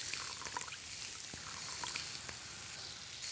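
Soy sauce trickles into a hot pan while a spicy steak supper cooks, a soft pour over a low, steady sizzle with a few faint clicks, quiet and close.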